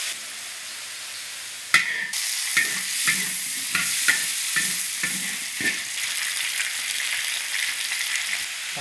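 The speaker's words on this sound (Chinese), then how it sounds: "把这个炒好的土鸡肉放进去一起炒" Free-range chicken is stir-fried in a hot wok. A loud, constant sizzle and hiss runs underneath a sharp clang at the start, followed by a repeated scraping and tossing rhythm.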